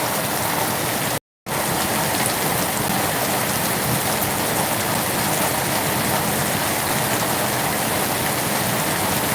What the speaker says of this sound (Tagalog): lakas ng ulan talaga